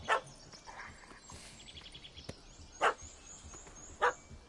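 A puppy barks in the Witcher 3 video game: a few short, sharp, faint barks spaced apart over quiet ambient game sound.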